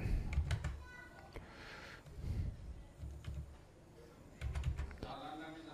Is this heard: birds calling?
no